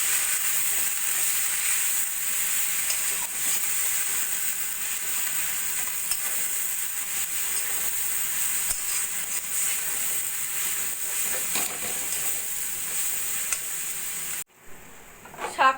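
Drumstick leaves frying in a pan with lentils, potatoes and spices, a steady close sizzle with occasional stirring scrapes that runs for a long stretch before cutting out near the end.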